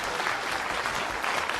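A dense burst of crowd applause plays as a sound effect, a steady loud wash of many hands clapping with no pauses throughout.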